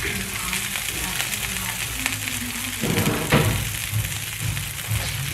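Cabbage and broccoli sizzle steadily in a hot pan, a continuous close frying hiss that swells louder partway through as the vegetables settle, with low clatters underneath.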